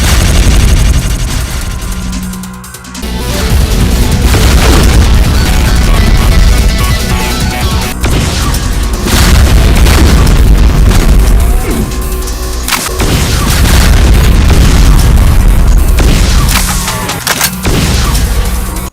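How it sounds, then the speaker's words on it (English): Rapid barrage of BFG 10K shots in a Doom mod, a loud, sustained roar of crashing blasts and booms with a brief dip early on before the onslaught resumes. "A rapid barrage of BFG 10K shots."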